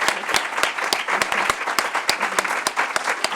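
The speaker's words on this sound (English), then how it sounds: "So Rebecca and Hannah, I think you need to stand up and take a round of applause." An audience at a Gender Day talk applauds, with dense, sharp handclaps in an uneven patter that holds steady and near, with no voices over it.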